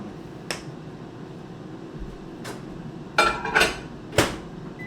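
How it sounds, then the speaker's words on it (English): Reheated eggs crackle inside a microwave in sparse, sharp pops, a single faint snap early and then a quick cluster of louder cracks, over the steady hum of the running oven. "It's making sort of a sound. It sounds like tin foil being microwaved, but it's not."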